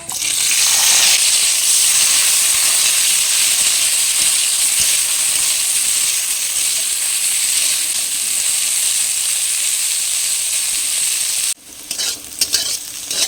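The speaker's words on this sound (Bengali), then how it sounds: "বেগুন ভাজা তেলের মধ্যে উচ্ছেগুলো দিয়ে ভেজে নেব।" Round slices of bitter gourd frying in hot oil left from frying eggplant, a loud continuous sizzle with steady hiss that drops abruptly near the end, leaving quieter crackles and a few stirring clinks.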